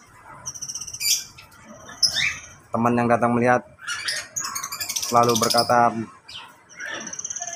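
A single caged black-naped oriole (kepodang) gives clear, loud whistled and chattering calls in bursts. Someone talks between and over the calls.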